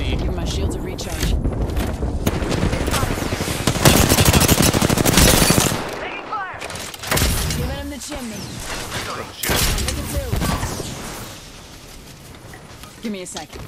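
Bursts of automatic gunfire from an Apex Legends firefight, dense and loud early on, then broken volleys with quieter gaps and game sounds, with a voice talking over parts of it.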